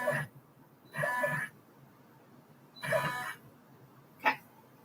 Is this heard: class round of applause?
no